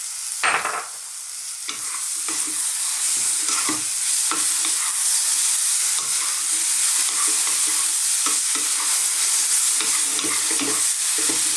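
Potato, mushroom and tomato sizzle steadily as they fry in a pan, with repeated scraping stirs from a utensil running throughout, close and fairly loud, with no talking.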